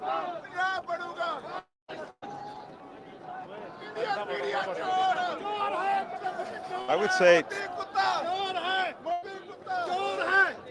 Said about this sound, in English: an enormous crowd here